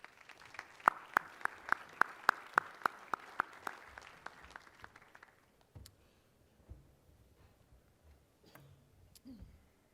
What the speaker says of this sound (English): Let's give our awardees another hand,